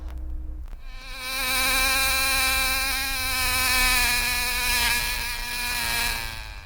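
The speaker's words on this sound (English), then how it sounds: "What kind of a bug do you suppose makes a sound like that? Can you buzz like that too?" A loud, continuous insect buzz drones for several seconds, wavering slightly in pitch and intensity, close to the listener.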